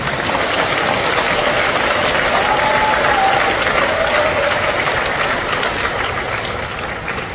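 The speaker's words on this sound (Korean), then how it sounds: "박수 한번" An audience at a cosmetics business presentation bursts into loud, dense applause that holds steady for several seconds before easing slightly at the end.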